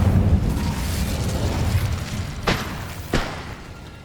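Two sharp fiery bursts from the Incendio spell in Hogwarts Legacy crack out in quick succession over a low rumbling game background, each a short bright whoosh-pop.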